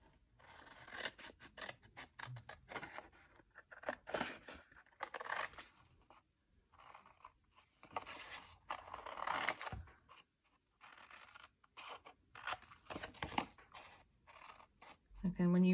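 Scissors snip through card while a mini sparkling wine bottle gift box is cut out, in a quiet, close, stop-start series of short cuts and rustles separated by brief pauses.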